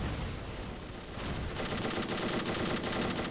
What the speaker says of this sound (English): these Panzer 38s that have just a lot of machine guns on it, making a lot of noise